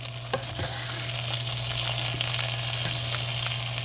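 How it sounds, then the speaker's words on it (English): Green beans, shallot and almonds sautéing in butter in a pan, a close, steady sizzle broken by scattered clicks and scrapes of tossing, with a low hum beneath and no talk. "Let the green beans saute a little bit in the pan with the butter, the almonds, and the shallot"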